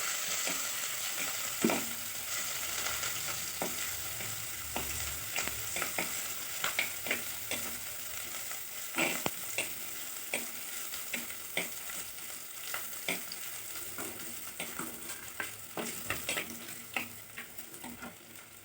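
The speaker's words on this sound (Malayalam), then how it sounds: "ഇഞ്ചി അരിഞ്ഞതും വെളുത്തുള്ളിയും കൂടെ ഇട്ട് കൊടുക്കും. അതിൻ്റെ പച്ച ചുവ മാറാനായിട്ട് ഒന്ന് വഴറ്റിയെടുക്കണം" Chopped ginger and garlic sauté in a pan with a steady, soft frying sizzle throughout, punctuated by frequent sharp ticks and taps of a spatula against the pan, close and continuous with no talking.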